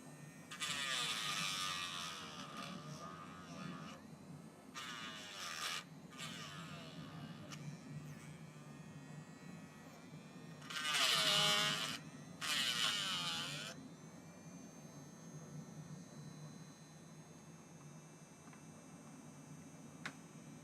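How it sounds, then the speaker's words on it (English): A Dremel rotary tool buzzes steadily in the background of a hobby painting session, a constant mid-level whine with brief louder bursts rising over it. "Nice Dremel vibrations in the background."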